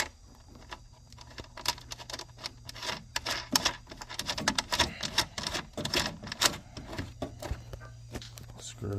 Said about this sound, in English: So I'll grab some nuts and tighten them in.